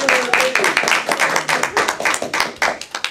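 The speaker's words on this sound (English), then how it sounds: "that we all cheer and clap and applaud that she may live" Audience clapping and applauding at a Toastmasters speech, a close, steady burst of many hands with a few voices briefly calling out over it.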